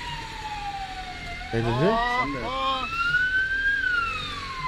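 An ambulance siren wails and sweeps in pitch close by on a road, with a brief warbling burst in the middle. Traffic noise sits underneath, and a voice speaks briefly.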